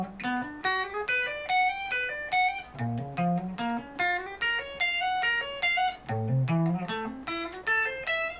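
Electric guitar plays a Zelda-style riff at full speed, a quick, even run of plucked notes climbing and dropping in repeating phrases, clear and close with no talking.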